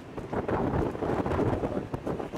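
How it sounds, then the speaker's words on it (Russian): Wind blows hard at the seaside, gusting and buffeting against the microphone in a loud, uneven roar with no voices heard. "О, этот ветер, ветер,"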